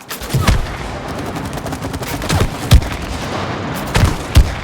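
Gunfire in the co-op video game It Takes Two, several loud, close bursts and sharp shots over a dense, noisy game backdrop, with spaced single blasts and no talking.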